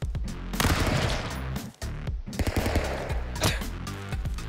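An Uzi fires in a 2D video game as rapid, loud bursts of automatic shots, broken by a brief pause before the chattering fire resumes.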